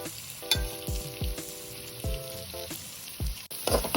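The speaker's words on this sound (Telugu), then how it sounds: "ఇప్పుడు ఇదే ఆయిల్లో తరిగిన ఉల్లిపాయలు 1 కప్పు, పచ్చిమిర్చి 2, కొద్దిగా కరివేపాకు వేసుకోవాలి." Chopped onions, green chillies and curry leaves frying in hot oil, a steady close sizzle broken by a few sharp clanks of a ladle against the pan, with no talking.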